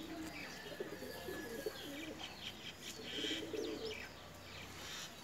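Quiet, throaty coos from a female Teddy Pakistani pigeon come in a few soft bursts, with scattered bird chirps and faint wing rustles around them.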